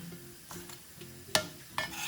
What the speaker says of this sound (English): So that goes straight into our lovely garlic that's cooking beautifully.